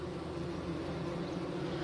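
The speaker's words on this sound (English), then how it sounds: "Look at all those bees." Dense, steady drone of honey bees crowding a hot, humid hive, a continuous close buzzing with a strong low hum and no break across the moment.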